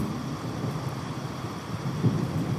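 Cartoon thunder and rain effect for a spooky animated ghost story: a steady wash of rain with a low rumble of thunder swelling briefly near the end, no voices.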